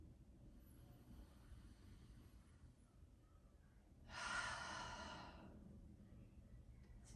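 One deep breath during a yoga session is heard as a soft, airy in-and-out rush, close and quiet, rising out of a faint hushed room background. There is no talk.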